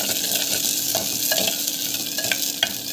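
Ingredients sautéing in a hot pan give off a loud, steady sizzle, broken by short scraping stir strokes every second or so.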